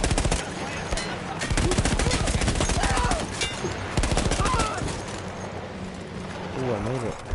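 Rapid machine gun bursts from a PS4 shooter game rattle across most of the stretch, dense and loud, with a person talking over the firing.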